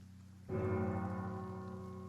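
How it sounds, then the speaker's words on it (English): A single church bell strike in Pillars of Eternity rings out after a moment of quiet, its resonant tone lingering and slowly fading over soft background rain. "It's a church bell. 2 tolls."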